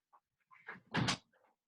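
A bathroom door closes onto a resistance band tied around it, giving a faint creak and then a soft, muffled thump as it shuts, close by and quiet, with no talking.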